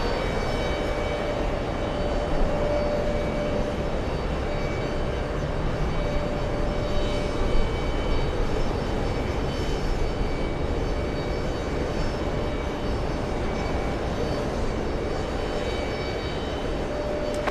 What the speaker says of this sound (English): We have a Delta Airlines Delta 203 flying in from Athens.